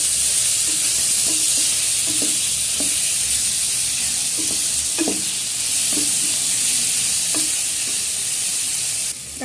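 Tomatoes and onions sautéing in a hot pan, a loud continuous sizzle broken by a series of spatula scrapes and taps at an irregular rhythm.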